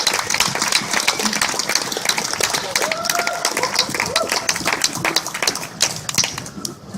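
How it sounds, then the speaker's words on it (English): Audience applause at a tech expo seminar greets Kim Dotcom, a dense wash of claps running steadily for several seconds with some speech mixed in. "Big round of applause."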